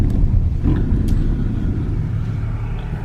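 Chevy Equinox AWD with an ABS and traction control fault heard from inside as it rolls down the road, a steady low engine and tire rumble with a faint tick near the middle.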